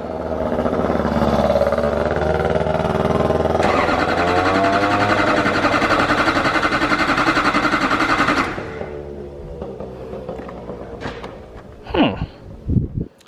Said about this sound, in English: We're gonna go ahead and fire it up.